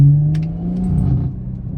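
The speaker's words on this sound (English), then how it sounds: "let's get a few little clips of driving and see what this thing sounds like, as well as what it pulls like" Tuned B58-engined car on the road gives a short, close engine drone that sinks in pitch and eases off, fairly loud but brief.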